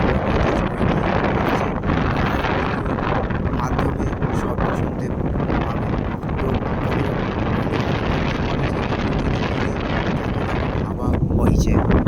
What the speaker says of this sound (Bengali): এক রাস ঠান্ডা বাতাস বয়ে নিয়ে আসছে